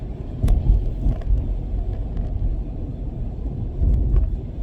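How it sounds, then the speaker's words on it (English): Steady low road rumble from inside a car being driven, a continuous engine and tyre drone with a few faint knocks and clicks and no talking. "I'm behind the wheel right now, as you can see."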